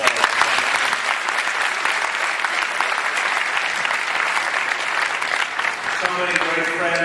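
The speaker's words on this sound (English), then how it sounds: "round of applause" An audience applauds a speaker at an Agudath gathering, with dense, sustained clapping from a large crowd filling the room for several seconds before tapering off as a voice begins near the end.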